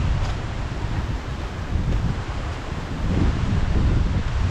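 Heavy surf rolls against the seashore with a continuous roar, mixed with strong wind buffeting the microphone, and the sound swells louder toward the end. No voices are present.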